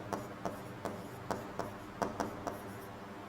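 Pen writing notes on paper, a series of short scratchy strokes at an irregular rhythm, close and quiet, with no voices.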